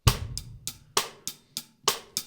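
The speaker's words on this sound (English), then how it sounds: "we're going to be actually hitting the snare drum and the bass drum at the same time" Snare drum and bass drum struck together in a bossa nova pattern, a short run of crisp, evenly paced hits on a close-miked kit, some with a deeper thump, and no voices.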